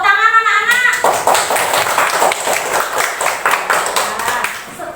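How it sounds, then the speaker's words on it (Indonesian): Schoolchildren in a primary classroom clap their hands together in a quick, loud, uneven burst that follows a brief tonal sound at the start. "Tepuk tangan anak-anak."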